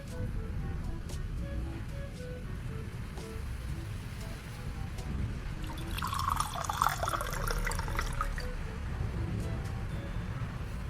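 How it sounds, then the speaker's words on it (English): Water from a filter pours into a pot of vegetables in a kitchen, a splashing, trickling stream that swells midway and then settles into softer dripping. "She cleverly put the vegetables in a pot, then got water from the filter and carefully poured it in."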